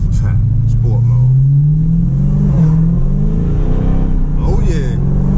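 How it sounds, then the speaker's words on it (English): A supercharged 2019 Dodge Challenger SRT Hellcat Widebody engine revs and accelerates in sport mode with a rising supercharger whine, loud and close from inside the cabin, while someone talks over it. "Y'all hear that supercharger?"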